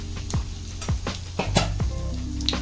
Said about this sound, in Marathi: आता याच तेलात आपण अर्धा चमचा मोहरी, अर्धा चमचा जिरं आणि पाव चमचा हिंग टाकूया।